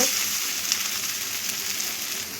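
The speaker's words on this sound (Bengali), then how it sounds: "এবার কন্টিনিউয়াস কিন্তু নাড়তে হবে, নাহলে কিন্তু পোস্তটা পুড়ে যাবে।" Poppy seeds fry in a pan while being stirred continuously, giving a loud, steady, close-up sizzle with a bright hiss throughout and no voices.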